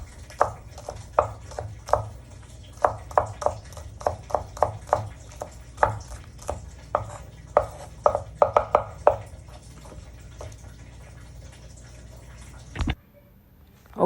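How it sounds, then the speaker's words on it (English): A knife chops an onion on a cutting board in a quick run of sharp, regular knocks for about nine seconds. The knocks stop, a quiet stretch follows, and then a sudden break ends it. "here I already started the process by cutting this onion"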